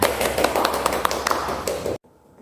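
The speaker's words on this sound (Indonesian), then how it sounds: "Beri tepuk tangan untuk kita semua." A classroom of students claps together in a quick, uneven patter of hand claps for about two seconds, then stops abruptly into near silence.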